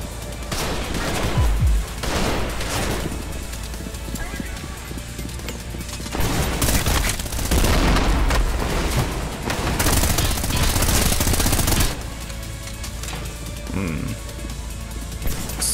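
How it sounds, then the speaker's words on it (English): Shotgun blasts fired at point-blank range in the Trepang 2 video game, several loud bursts within dense, continuous combat noise and crashing impacts. "Shotgun point blank range."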